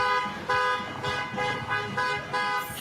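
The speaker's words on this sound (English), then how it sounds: "when they honk and they support you" Car horns honking in support at a street protest, repeated sustained toots pulsing about every half second over traffic noise, moderately loud and fairly near.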